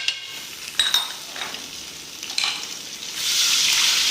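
Garlic, ginger and whole spices frying for a kabab handi masala, a steady sizzle punctuated by scraping stirs, swelling louder near the end.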